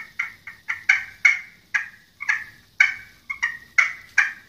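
A turkey call imitates a feeding hen's soft clucking and putting, a string of about a dozen short, sharp clucks in an uneven rhythm, close and clear with nothing else beneath them.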